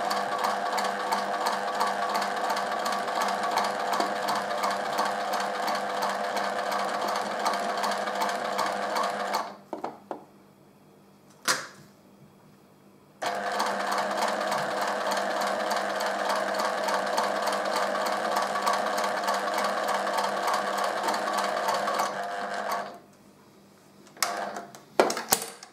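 A sewing machine back-stitches a fabric coaster, a fast, even mechanical whirring run that stops briefly with a couple of clicks, then resumes steadily before stopping again with a few short knocks.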